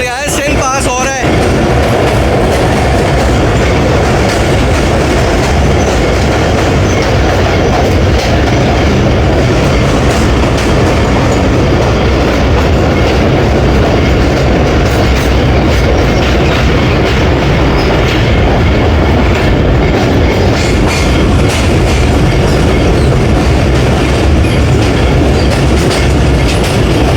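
Tezgam express train crossing the Indus river bridge, a loud continuous rumble with rapid clickety-clack of wheels on the rails and a metallic ring throughout, heard close from inside the train.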